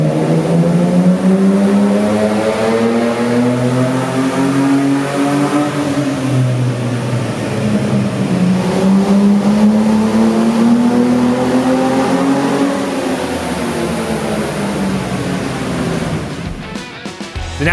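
A 1985 Ford XF Falcon with a Barra six-cylinder engine swap, naturally aspirated, revs hard at Summernats, its loud, raspy note sweeping up and down in repeated surges before cutting off abruptly at the end.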